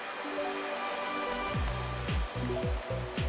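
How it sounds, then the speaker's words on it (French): Steady rain falls on a bivouac camp, with dense drops pattering continuously on nearby surfaces and a soft, uneven drip rhythm close at hand, without any voices. "Un bivouac sous la pluie, mais très agréable."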